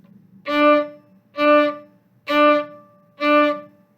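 Four short, separated bowed string notes on one pitch, each cut off cleanly with brief silences between, evenly spaced and played alone.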